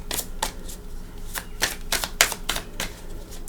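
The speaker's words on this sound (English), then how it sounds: "I'm going to shuffle for our cards" A deck of tarot cards being shuffled by hand, a run of crisp riffling bursts in an irregular rhythm, close and clear with no talking.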